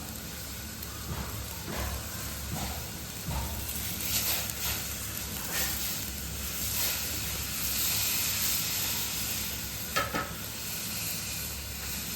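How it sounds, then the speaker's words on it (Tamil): Semiya vermicelli dropped into water boiling in a pot, a continuous close hiss and bubbling with a few soft clinks and stirring knocks scattered through it, no voices. "தண்ணி கொதி வந்துருச்சு. இது கூட நம்ம சேமியா சேர்த்துக்கலாம்."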